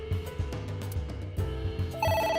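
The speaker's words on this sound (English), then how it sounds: "Oh no, the phone again. It's ringing again." Telephone ringing in the video game AI: The Somnium Files, repeated electronic ring pulses over background music, with a higher tone entering at the end and no talking.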